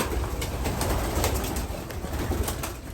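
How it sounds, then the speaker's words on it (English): Young racing pigeons shuffle and stir inside the small section of a flying loft, giving a steady, close, dense rustle of wings and soft bird activity with no talking. "So these are the youngest birds that came in."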